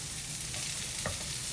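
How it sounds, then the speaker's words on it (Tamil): Peeled, chopped small shallots sautéing in a pan for sambar, giving a steady loud sizzle with faint stirring scrapes throughout and no voices. "இப்போ சின்ன வெங்காயம் தோலி எடுத்து கட் பண்ணி வச்சுருக்கேன். அதை போட்டு நல்லா வதக்கிக்கலாம்."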